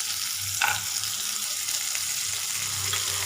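Cashews frying in a pan for paneer butter masala: a steady close sizzle with a little stirring, no voice.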